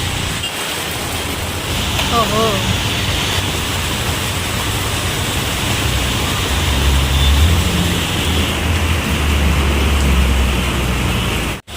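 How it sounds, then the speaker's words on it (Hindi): Heavy rain pours outdoors as a loud, unbroken hiss, with a voice briefly exclaiming over it. "बहुत शोर हो रहा है, बारिश हो रही है।"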